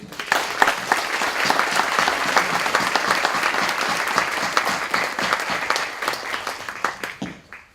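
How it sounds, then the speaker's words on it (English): Sustained applause from a large conference audience after a keynote presentation, dense and steady, fading out toward the end. "Another round of applause, please, to John."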